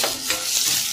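Idli Manchurian frying in a pan, a short burst of sizzling with a few soft stirring scrapes, close and fairly loud, no talking.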